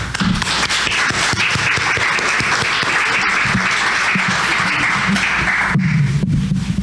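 Warm applause from an audience welcoming an honored guest at a cultural lecture in Jalisco, dense steady clapping filling the room for several seconds, slightly swelling near the end.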